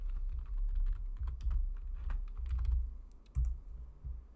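A computer keyboard is typed on in short uneven bursts of key clicks as a card gets renamed, close and fairly quiet, with brief pauses between clusters and no voices.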